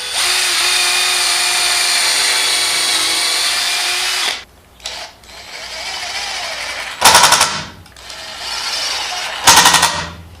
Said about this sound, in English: I'm countersinking these so I can do plugs in them so I can cover them all up